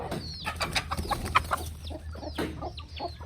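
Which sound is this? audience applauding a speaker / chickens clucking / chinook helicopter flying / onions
chickens clucking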